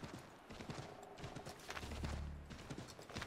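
Horse hooves clatter in Assassin's Creed 3 as a rider spurs the mount on, a rapid run of clip-clop beats with a low rumble building in the middle, close and fairly loud amid game noise.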